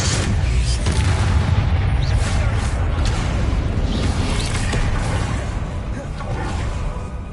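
Bombarda spell explosions in the PS5 game Hogwarts Legacy, dense booming blasts and whooshes over continuous loud combat noise, with spell shouts heard throughout.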